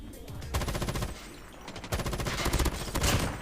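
Rapid bursts of M13 rifle fire in the mobile shooter Call of Duty Mobile: two sustained automatic volleys with a short pause between them, loud and dense, with no talk over them.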